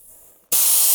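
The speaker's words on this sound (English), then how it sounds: "So I've just taken that down to 25 psi." Air rushes out of a tyre valve with the valve core removed, a sudden loud, close hiss that cuts in halfway and continues steadily as the tyre is deflated.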